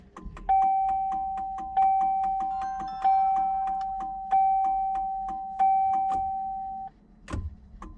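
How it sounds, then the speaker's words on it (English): A truck turn signal ticks rapidly and steadily while a sustained electronic chime tone sounds over it, ending with a soft thump. "was making a weird noise with the turn signal."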